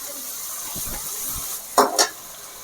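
Ginger-garlic paste fries in a pan for a vegetarian soup, a steady close sizzle punctuated by two brief clinks of a spoon stirring against the pan.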